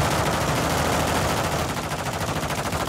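Sustained, dense automatic gunfire in a military shooter video game set in a DMZ, loud and continuous bursts of rapid shots filling the whole stretch with no talk over it.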